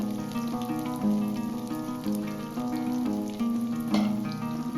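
Two large long-sliced onions frying in hot oil for a chicken gravy, a steady close sizzle and crackle throughout, with a brief louder burst of spatter partway through.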